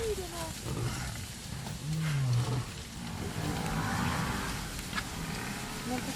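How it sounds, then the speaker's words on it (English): An injured lion, barely standing, growls low and rough in a couple of rumbling bursts against a dusty, noisy background, with a narrating voice running over it. "the lion, barely standing, growls back in defiance."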